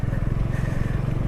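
A Honda Valkyrie motorcycle engine runs at low revs while the rider slips the clutch, giving a close, steady, throbbing rumble with a fast regular pulse.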